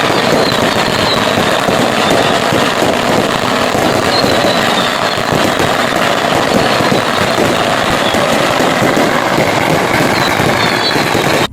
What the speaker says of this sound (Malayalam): എന്താണല്ലേ, നല്ല കിടുക്കാച്ചി പടക്കങ്ങള്.